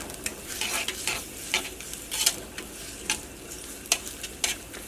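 Sliced onions frying in coconut oil in a pan, a steady sizzle broken by repeated scraping stirs of a spoon, close and fairly loud, no voices.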